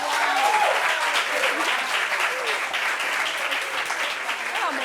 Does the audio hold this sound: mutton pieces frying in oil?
no